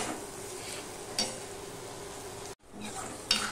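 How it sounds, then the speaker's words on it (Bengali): Chana dal with egg sautéing in a pan, giving a low steady sizzle with a couple of spatula scrapes and clinks and a brief drop to silence midway. "এবার ছোলার ডালটাও কষানো হয়ে গেছে"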